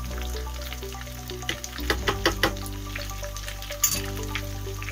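Steady sizzling of veal and vegetables with tomato paste frying in a pan, with a few clinks and scrapes of stirring partway through; no talking.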